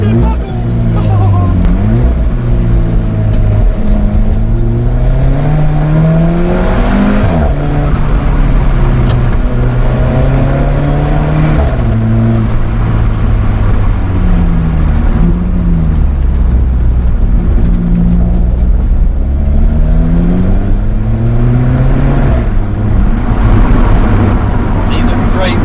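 Loud, continuous engine and exhaust roar inside an Alfa Romeo 4C Spider driving on open roads, revs rising and dropping through gear changes with brief pops, while people talk over it throughout.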